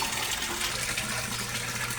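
An Aquaspeed submersible pump for a koi fish setup runs in water, giving a steady loud rush and churn of moving water that holds constant throughout with no breaks.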